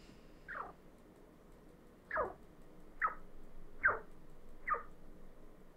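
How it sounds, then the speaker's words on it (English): A chinchilla gives five short, squeaky chirps spaced about a second apart, each a quick sliding squeak, isolated against near silence. "they make lots of little chirping noises for the most part and squeaks"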